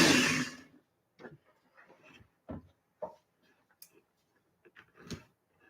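Knife chopping ingredients on a board during home cooking, heard as a series of irregular, fairly close wooden taps and knocks with short pauses between strokes, no speech.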